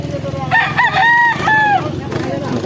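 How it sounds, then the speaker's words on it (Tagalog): Roosters crow at a rural place, with two or three loud, clear crows in quick succession. Faint background noise runs underneath. "Ang kondisyon ng mga manok nila mga idol."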